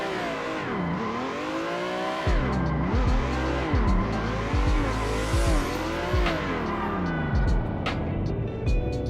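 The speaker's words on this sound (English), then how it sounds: "I am pressing the clutch a lot and or clutch kicking a lot to make this happen" A car drifting with repeated clutch kicks in Assetto Corsa, its engine revving up and down in surging waves while tires squeal and skid steadily throughout, loud and close with no voices.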